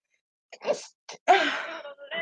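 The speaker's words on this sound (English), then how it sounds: "Wait, I gotta sneeze." A single person sneezes nearby, with a quick intake of breath before the sharp, noisy burst and a short breathy sound after.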